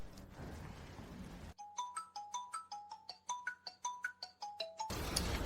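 A phone ringtone plays a bright, rhythmic chime melody of evenly spaced notes for several seconds, clear and alone between stretches of background noise.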